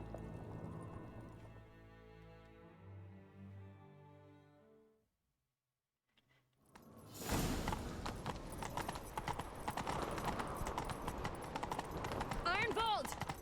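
Horse hooves clip-clop at a rapid gallop in The Witcher 3: Wild Hunt, loud and continuous after a stretch of quieter music and a brief silence.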